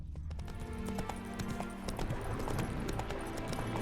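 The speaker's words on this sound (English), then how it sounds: "Now it's time to take an early morning canter over to do some investigating." A horse canters in The Witcher 3 on an early morning ride, its hooves clip-clopping in a steady rhythm, loud and close, over continuous game ambience.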